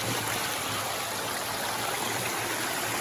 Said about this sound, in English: It's going to drop that water about 3 inches